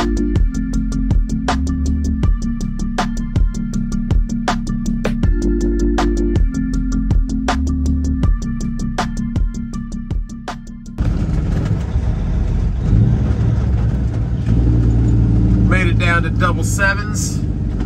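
A Kenworth W900 truck works through its 18-speed gearbox, the engine note stepping up and down in rhythmic segments with gear changes, then shifting to a rougher, broader cab rumble.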